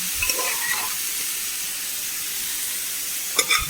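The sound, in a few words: chickpeas added and stirred into frying coconut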